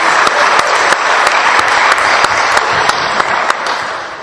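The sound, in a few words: applause in a church gathering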